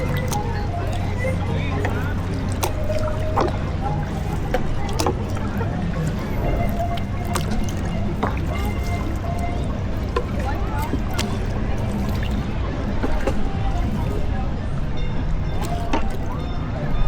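Wooden canoes paddled along a river at Disneyland Park, their paddles splashing and gurgling steadily through the water over continuous outdoor ambience, with people talking in the boat.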